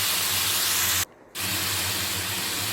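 A broad, loud hiss of frying green mangoes in a hot pan as jaggery is added for a sweet and spicy chutney, steady apart from a brief break of near silence partway through, with no talking.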